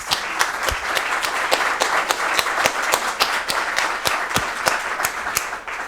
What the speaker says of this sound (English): a big round of applause to our panelists